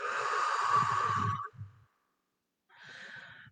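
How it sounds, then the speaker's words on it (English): A long, close sigh of breath released out through the mouth in a guided relaxation exercise, about one and a half seconds of breathy exhale, followed by silence and then a softer second breath. "And release through your mouth."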